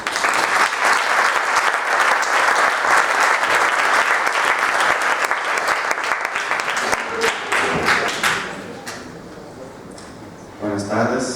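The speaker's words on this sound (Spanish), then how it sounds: "pedimos un aplauso para él" An audience at a spiritist federation talk in Madrid applauds a speaker being introduced: dense, sustained clapping from a full room that thins and fades toward the end.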